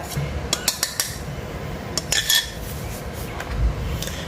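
Flour being stirred into butter cookie dough in a bowl brings a run of sharp utensil clinks and taps against the bowl, then duller scraping, close by with a low background hum.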